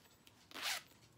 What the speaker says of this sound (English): It does have a little zipper compartment